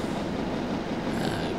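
Train running in Train Simulator 2014, a steady, dense rumble of rolling stock with faint rhythmic wheel clatter and a thin high squeal, continuous and close throughout.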